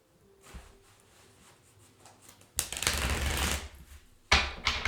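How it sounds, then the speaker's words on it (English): Tarot cards riffled and shuffled close up in a few bursts, a long loud shuffle followed by a short pause and another quick riffle. "That was a weird shuffle. Let me go one more."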